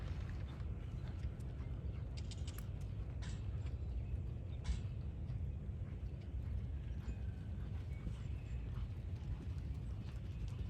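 A horse canters in an arena, its hoofbeats a faint rhythmic thudding under a constant low rumble of background noise.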